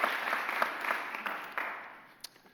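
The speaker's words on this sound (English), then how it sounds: "Please give him a huge round of applause." Moderate applause from attendees at a mayor's press conference, fairly close clapping that thins and fades over a couple of seconds with a few scattered claps at the end.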